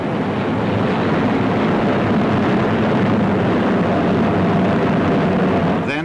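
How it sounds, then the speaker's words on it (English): A Handley Page Herald medium-range transport aircraft flies over an air show at Farnborough, its loud, steady engine roar filling the air continuously and close by. "Making its first appearance at a Farnborough show, the Handley Page Herald, a brand new medium-range transport to carry up to 40 people"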